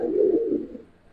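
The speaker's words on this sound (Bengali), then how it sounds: "যে যেমন কবুতর দেখেন কোয়ালিটি মাশাআল্লাহ, দুইটা ঠিক আছে কবুতর" A single soft, close coo from a pair of Gribaz silver chila pigeons, a short low throaty call that fades out within a second.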